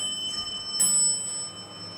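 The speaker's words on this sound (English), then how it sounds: "The bell." A Kencor hydraulic elevator in an apartment complex gives a couple of short, light bell chimes against a quiet hum of background noise.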